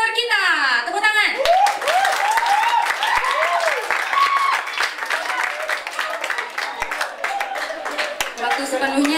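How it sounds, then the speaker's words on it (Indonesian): A school audience at a student council election event claps continuously, a lively, dense round of applause that starts right after a brief voice at the beginning and stays strong throughout, with voices and cheers mixed in. "Tepuk tangan."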